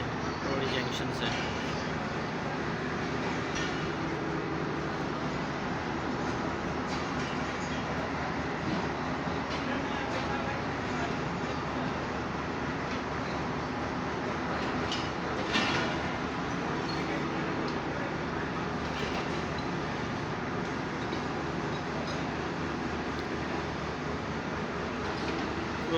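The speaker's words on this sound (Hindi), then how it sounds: "ये फरीद एक्सप्रेस है जो कि रवाना हो रही है रोडी जंक्शन से" The Farid Express train pulling out of Rohri Junction, a historic station in Pakistan: a steady, continuous rumble of rolling rail cars with faint squeals and clanks on top.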